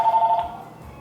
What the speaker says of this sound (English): Now my telephone's ringing.